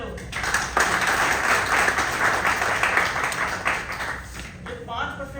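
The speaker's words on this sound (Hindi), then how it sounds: "एक बार तालियां दो।" An audience at a business plan meeting claps together in a loud, close burst of applause that holds for several seconds, then tapers off as it fades out.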